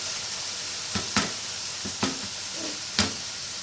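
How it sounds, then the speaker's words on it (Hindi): Boiled potatoes and chickpeas stirred in a pan for aloo chana salan, giving a few sharp, separate scrapes and clatters over a faint, steady sizzle. "चने डालकर मिक्स कर दूंगी और अच्छी तरह से इनको हिला लूंगी।"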